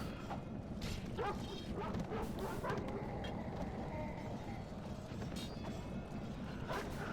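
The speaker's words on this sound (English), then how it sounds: "We still have our dogs fighting." War dogs barking and snarling in a Total War: Rome Remastered battle, steady yelps buried in a dense, continuous roar of combat noise.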